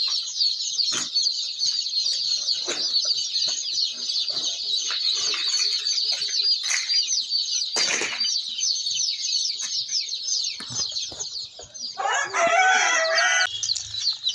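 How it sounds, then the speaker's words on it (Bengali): A crowd of Black Australorp chicks, readied for transport, peep loudly and without a break, a dense, shrill chorus close by, with occasional knocks and rustles and a burst of louder calls near the end. "অরিজিনাল ব্ল্যাক অস্ট্রেলক মুরগির বাচ্চা"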